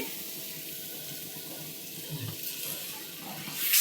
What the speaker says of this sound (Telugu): కొద్దిగా వాటర్ వేసుకుని